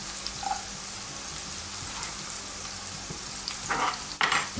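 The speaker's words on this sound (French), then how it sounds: "On va faire suer un peu d'échalote" Shallot and garlic fry in butter in a pan, a soft steady sizzle with occasional stirring scrapes growing louder near the end.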